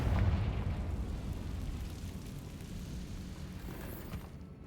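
A Confringo spell explosion in the Hogwarts Legacy video game bursts as a loud, broad rumbling blast that slowly fades over several seconds.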